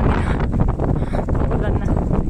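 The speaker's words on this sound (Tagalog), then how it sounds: "Pero ang lakas ng hangin." Strong wind buffets the microphone in a steady loud roar with gusty surges throughout, while people talk faintly underneath.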